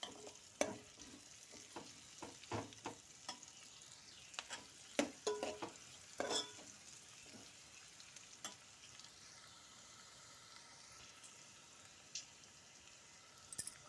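Broad bean pieces with turmeric are stirred in an oiled pan, with irregular spatula scrapes and clinks over a soft, quiet sizzle and no voices.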